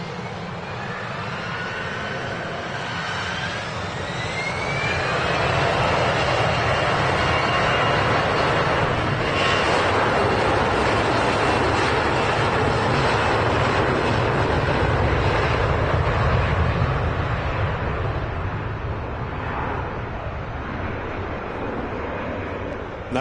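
A Jet2 Airbus A321 on the south side of Manchester Airport gives a steady, broad jet roar that swells midway and eases slightly toward the end, heard from some distance with no one speaking.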